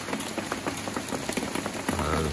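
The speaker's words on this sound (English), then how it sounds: "we've got a typhoon passing by. Winds haven't picked up much, but there's quite a bit of rain" Heavy rain from a passing typhoon drums steadily on surfaces in a garden beside a house, a dense continuous patter with scattered louder drops, close and fairly loud with no talking.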